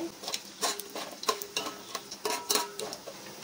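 Biryani masala with bay leaves and whole spices stirred in hot oil in a pan, a steady soft sizzle broken by repeated scraping strokes of a spoon against the metal, close and moderately loud, with no voices.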